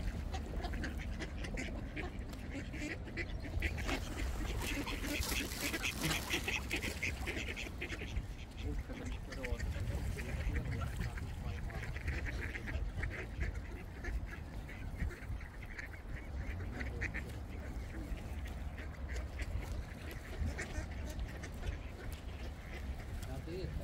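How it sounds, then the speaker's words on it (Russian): Ducks quack now and then amid outdoor background noise, with people talking nearby throughout. "Они боятся подходить, уточки."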